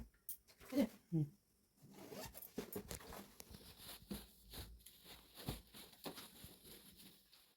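Covers are zipped onto cushions at close range, with a few quick rasping zip strokes near the start, followed by soft fabric handling and rustling.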